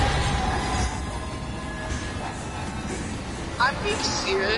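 A train pulling in within the video game Alien: Isolation, a steady low rumble and rolling noise with brief metallic squeals and clanks near the end, heard under a voice talking over it.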